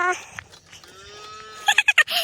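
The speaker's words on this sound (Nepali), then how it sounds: "इस्मालाई चिनेछ गाई कराइहाल्यो" A village cow on a farm gives a drawn-out, nearby moo that rises and holds, followed by a few sharp short sounds and some background noise.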